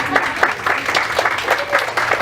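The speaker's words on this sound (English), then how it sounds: "You can clap, that's fine." Brief clapping from an audience at a school board meeting honoring high school award winners, scattered claps close by in a short steady burst.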